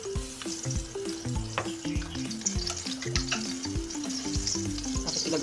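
Onion sizzling as it fries in a pan for ginisang sardinas, a steady crackling hiss with rhythmic scraping and stirring knocks, close and alone.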